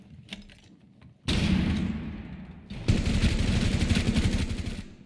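Rapid gunfire rings out in Rainbow Six Siege, loud, dense automatic bursts that start after a quieter opening and continue almost without a break, with a short lull in the middle before another sustained volley.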